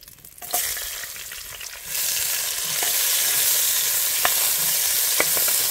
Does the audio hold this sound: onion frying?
yes